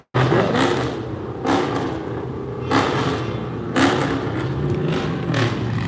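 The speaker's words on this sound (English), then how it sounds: "there's a lot of cars over there too, so that's probably what y'all hear" Cars pass in bursts along a jammed road nearby, with engines and tyre roar swelling roughly every second or so over a constant traffic rumble.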